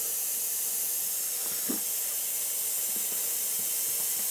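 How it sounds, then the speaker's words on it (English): A steady, loud hiss of an airbrush spraying water continuously while building an Eduard Spitfire model kit, with faint clicks and taps underneath. "as you can hear, that's spraying a whole lot easier"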